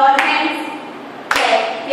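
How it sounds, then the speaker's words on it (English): Children clapping their hands along to music in a kindergarten class, two sharp, distinct claps spaced about a second apart over sung or spoken instructions. "Listen to the music and clap your hands."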